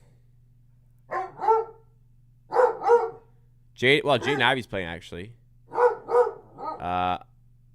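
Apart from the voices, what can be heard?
dog barking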